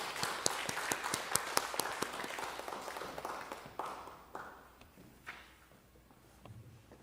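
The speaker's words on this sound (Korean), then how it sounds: "큰 박수 부탁드립니다." Scattered applause welcoming a Catholic priest speaker at a Korean church history seminar, sharp distinct claps at first that thin out and fade over several seconds in a quiet room.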